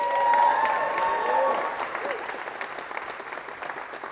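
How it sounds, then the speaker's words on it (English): Audience applause with some cheering at a seminar, starting loud with whoops and voices over the clapping, then settling into steadier, slightly softer clapping. "Another big round of applause for my beautiful bride, Erica."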